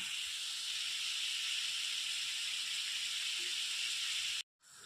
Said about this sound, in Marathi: आता आपण त्यात कोबी टाकूया. कोबी टाकल्यानंतर आपण छान मिक्स करून घेऊया.